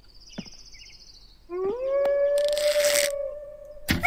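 A wolf howls in a video game, a single rising, sustained tonal howl that holds steady for a couple of seconds, preceded by faint bird-like chirps and followed by a burst of rustling noise.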